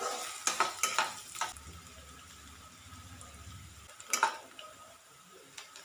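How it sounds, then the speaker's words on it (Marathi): Chopped onion added to a pan of browned garlic and frying, with stirring scrapes and soft sizzling in short bursts near the start and again toward the end, over a quiet steady background. "आता यामध्ये घालायचं आहे कांदा तर कांदा घालूया आपण यामध्ये हा देखील भाजून घेऊया"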